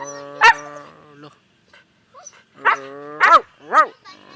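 A dog gives a few short barks and yelping whines, spaced irregularly, close and fairly loud against otherwise quiet surroundings.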